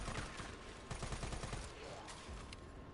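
Rapid bursts of gunfire in the video game Resident Evil 3 Remake, a dense fusillade of repeated shots with a few louder single cracks, steady and close throughout.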